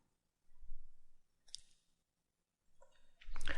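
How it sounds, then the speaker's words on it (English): A computer mouse clicked to open files, giving a few faint, sparse clicks and soft taps separated by near silence in a quiet room. "You can open MATLAB files by double-clicking them"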